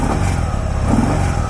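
Stock exhaust on a 2018 Harley-Davidson Sport Glide gets a short blip of throttle, a loud close engine roar that swells slightly and settles back, with no voices present.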